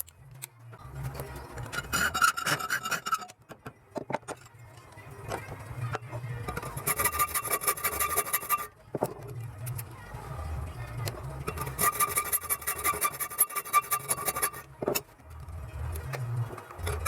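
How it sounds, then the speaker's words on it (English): A hand file rasps at holes cut in a project boat's center console, working in steady back-and-forth bursts of scraping strokes at close range, with brief pauses between passes and no talk. "So now I'm fine-tuning all the holes with a file"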